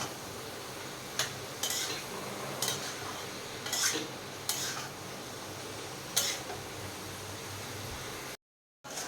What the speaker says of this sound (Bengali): ভালো করে মশলাটাকে মশলার সাথে আমি মিশিয়ে নেব।